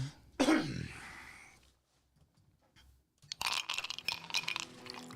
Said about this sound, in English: go ahead and cough. You know you want to.